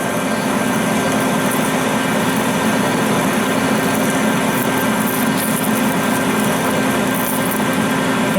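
A lathe motor strains steadily while an Accusize parting tool cuts off a workpiece, a continuous dense whine with a constant grinding hum, loud and close, unbroken for the whole stretch with no voices.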